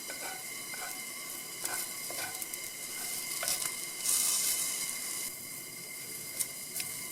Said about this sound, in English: Sizzling away nicely